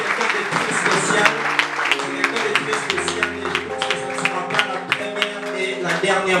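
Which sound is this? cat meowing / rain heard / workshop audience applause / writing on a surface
workshop audience applause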